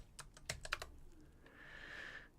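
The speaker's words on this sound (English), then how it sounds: "We type in gems." A handful of quick keystrokes on a computer keyboard, closely spaced and clear, followed by a brief soft hiss as the typing stops; no one speaks.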